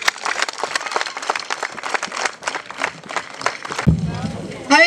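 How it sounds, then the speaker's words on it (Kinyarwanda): A crowd at an outdoor community work gathering gives dense, fast applause welcoming the vice mayor, close and lively, fading into a low hum near the end. "tumwakire n'amashyi menshi"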